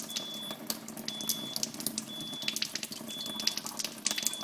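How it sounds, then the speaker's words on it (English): Water runs from a faucet in a steady, quiet stream, with light tapping on the tap and a faint repeating electronic beep in the background. "I'm just tapping on the faucet here to look at the flow."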